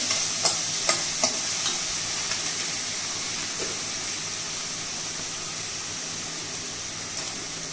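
Vegetable momo filling fries in a pan over low gas, giving a soft, steady sizzle, with a few light spoon clinks from stirring near the start and one more near the end.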